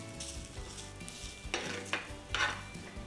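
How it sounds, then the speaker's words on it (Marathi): Grated coconut and onion sautéing in a pan for a potato curry, a close hiss with bursts of louder sizzling and clattering stirring strokes near the end, no voices. "हे पण छान परतून घ्यायचं आपल्याला कांद्याबरोबरच"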